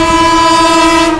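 The Kerala Express, running from New Delhi to Thiruvananthapuram, sounds its horn on approach at night: one loud, close, sustained tonal blast holding steady for the whole moment.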